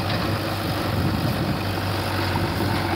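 A tractor engine idles in a village setting, giving a steady low rumbling drone that stays loud and even for the whole few seconds, with no speech over it.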